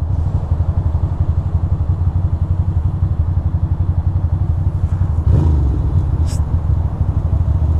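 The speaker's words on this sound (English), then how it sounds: "So my bike started right up." A Ducati Monster motorcycle engine idles loud and close just after starting on a New York City street, with a steady, lumpy pulsing rumble and a brief rise in revs partway through.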